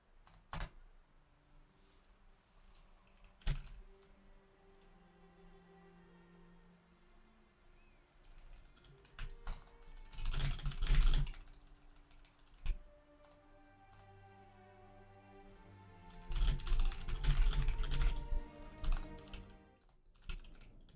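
Fingers type on a computer keyboard during a gaming stream: scattered single key taps, then two dense bursts of fast clattering keystrokes, close and fairly loud.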